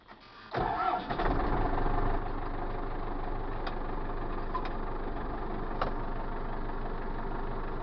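An MTZ-82 tractor engine cranks briefly, catches with a loud burst, and settles into a steady rumbling diesel idle, up close and alone.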